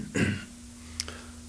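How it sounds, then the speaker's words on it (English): A man clears his throat once, close and fairly loud, with a faint click after it over a steady low hum. "let me clear my throat"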